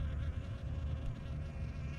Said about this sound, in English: But the bees are really strong.